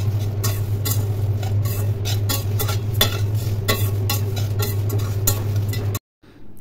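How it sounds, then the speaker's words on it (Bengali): Small whole spices being stirred and dry-fried in a steel pan, with continuous scraping and rattling strokes over a low hum, ending abruptly in silence. "তারপর আমি আস্তে আস্তে করে একদম ছোট ছোট যে মশলাগুলো আছে সবগুলো দিয়ে একসাথে করে কিছু সময় একটু নাড়াচাড়া করব।"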